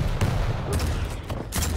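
Rocket launches in a competitive 1v1 shooter match, several sharp bursts in quick succession over a low rumbling din, with faint commentary underneath.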